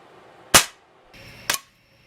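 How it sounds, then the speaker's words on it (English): A vintage Crosman 760 air rifle fires once at a small target: a sharp, close snap followed by a quieter second crack about a second later, with little else around. "I'm going to have to shoot once at the small target"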